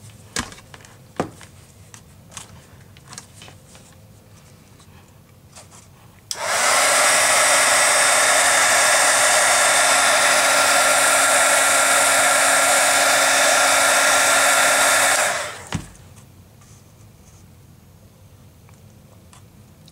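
A heat tool blows hot air to melt embossing powder on a chipboard scrapbook piece, a loud steady whirring roar switched on for about nine seconds and then cut off, surrounded by quiet handling sounds.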